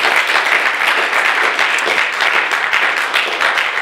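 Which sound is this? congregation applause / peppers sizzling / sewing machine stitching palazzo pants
congregation applause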